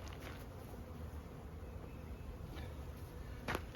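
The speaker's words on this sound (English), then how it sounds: "Bees are pretty nice and gentle." Honey bees buzz steadily around an open hive, a continuous soft drone of many insects at moderate distance with no talking, and a brief brighter burst near the end.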